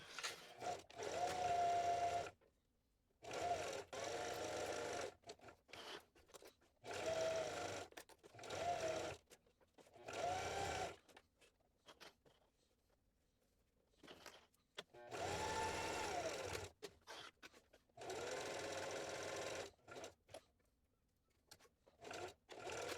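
A domestic sewing machine top-stitches a tote bag in repeated bursts of steady motor whirring, separated by quiet pauses, heard fairly near without talk.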